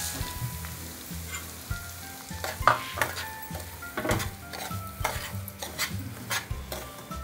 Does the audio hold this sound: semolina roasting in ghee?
yes